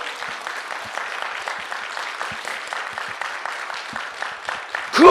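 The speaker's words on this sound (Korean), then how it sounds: "박수!" A church congregation at a morning revival service bursts into lively, rhythmic applause, many hands clapping together steadily for several seconds before a voice rises at the end.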